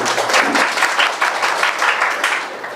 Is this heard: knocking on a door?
no